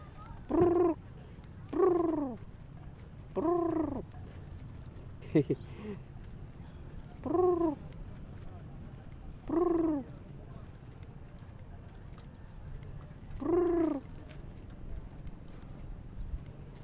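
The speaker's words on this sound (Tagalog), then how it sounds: "May mga ibon." A bird calls repeatedly at slow, fairly regular intervals, a cooing note like a dove's, at the Carigara baywalk, with a quiet background and one short knock between calls.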